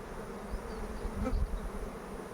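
A dense, steady buzzing hum of a queenless honeybee colony in a hive, continuous and close, with a slight swell midway.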